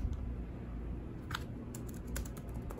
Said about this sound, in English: Very, very clicky keyboard, I can tell.